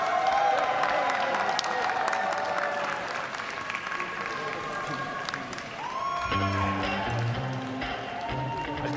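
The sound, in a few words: applause for Estonian supporters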